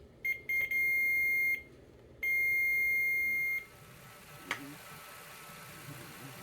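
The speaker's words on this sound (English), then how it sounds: "the multimeter makes a beep while both ends are connected to the fuse" A multimeter set to continuity emits steady electronic beeps as its probes touch both ends of a good vehicle fuse: two sustained tones, with a short blip before them, against faint background hum.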